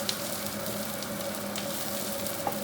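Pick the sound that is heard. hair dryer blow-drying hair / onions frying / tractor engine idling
onions frying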